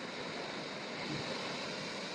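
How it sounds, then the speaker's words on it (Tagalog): Ocean waves at Corimao Beach roll in as a steady, soft surf wash, faint and continuous with a slight swell midway and no voices. "This is Corimao Beach."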